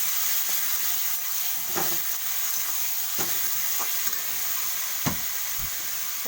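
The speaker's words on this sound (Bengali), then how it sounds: "এবার আমি তরকারিটা ঢেলে দেবো" Pumpkin curry hitting a hot pan with cumin and chili, with a steady bright sizzle near and moderately loud, punctuated by a few light utensil taps.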